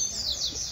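A papa-capim seedeater sings a brief, high, bright chirping phrase outdoors, close and clear over faint background noise.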